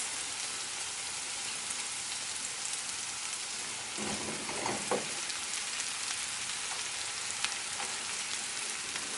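Brussels sprouts fry in a hot pan with a steady, even sizzle that holds at a moderate level throughout, with a few soft clatters near the middle and no talking.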